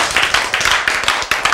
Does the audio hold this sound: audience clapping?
yes